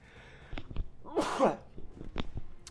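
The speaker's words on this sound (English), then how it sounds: "Sneeze there." A single sharp sneeze bursts out midway, close and fairly loud, framed by a few small clicks and faint breathing.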